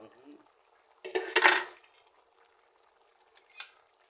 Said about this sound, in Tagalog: lagay na natin yung patola para mabango-bango